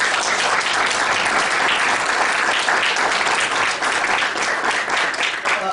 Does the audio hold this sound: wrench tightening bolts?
no